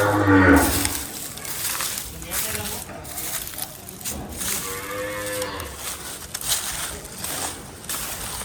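A cow lets out a long low moo midway through, with another brief lowing at the start, amid outdoor noise and people talking nearby at a cattle shelter.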